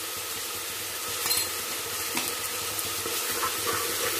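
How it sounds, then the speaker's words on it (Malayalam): Ginger garlic paste sautéing in a pan for vegetable rice: a continuous close-up sizzle with soft scraping and stirring sounds throughout. "ജിഞ്ചർ ഗാർലിക് പേസ്റ്റ് അതിലേക്ക് ഇട്ട് കൊടുക്കാം. നമ്മൾ വഴറ്റിക്കൊണ്ടിരിക്കുക."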